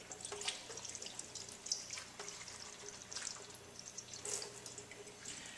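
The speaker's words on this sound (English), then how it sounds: "rinsing out your multi-well plate" Distilled water runs from a tap to rinse out a multi-well plate in a lab, giving a steady faint splashing and trickling with a few louder spatters and drips, with no voices.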